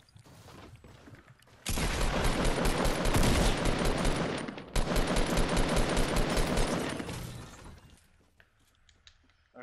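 Video game gunfire in a squad battle, a long loud burst of rapid automatic shots, a brief gap, then another sustained burst tapering into scattered single shots.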